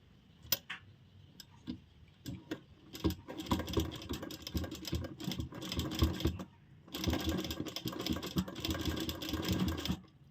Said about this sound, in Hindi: बहुत धीरे लगाना है यहाँ से, हमें बहुत तेज मशीन नहीं चलानी, क्योंकि सिर्फ किनारे पे ही हमारी सिलाई लगनी है